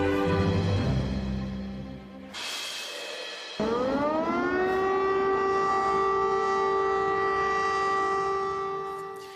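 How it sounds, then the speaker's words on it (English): Air raid sirens wailing across Kyiv during an overnight attack, a loud sustained howl that breaks off, then rises into a long steady tone and holds, with a distant mechanical rumble underneath. "You're listening to air raid sirens blaring in Kyiv as Russia launched a massive air attack overnight on the city."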